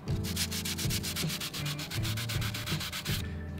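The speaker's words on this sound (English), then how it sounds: "This is what it sounds like on a rough bit." Hand sanding with sandpaper on a rough spray-painted surface of MX-5 NC roll bar covers, a loud, rhythmic scraping rasp in steady back-and-forth strokes, close and alone.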